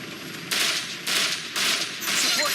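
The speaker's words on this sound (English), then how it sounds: "We're getting shot at." Bursts of automatic gunfire in the military shooter Operation Flashpoint: Red River, four loud sustained volleys separated by brief pauses, each a dense rattling roar.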